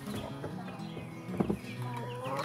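A hen named Madame Cappuccino clucks and murmurs close by in a steady run of short calls while being shut in a pen to stop her brooding.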